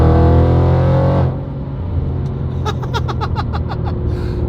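An upgraded Audi RS7 sedan making about 700 horsepower lets out a loud, close engine roar that drops abruptly to a deep idling rumble, followed by a rapid string of sharp exhaust crackles and pops.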